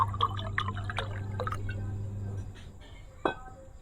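Water splashes and drips as half a glass is poured, with irregular trickling and droplet sounds over a steady low hum, then a single brief clink near the end.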